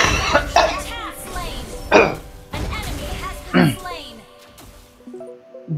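Someone coughs repeatedly in short harsh bursts while playing Mobile Legends, close to the microphone and mixed with talk and game sounds.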